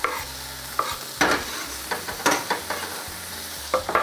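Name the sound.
stirring onions and red pepper frying in pan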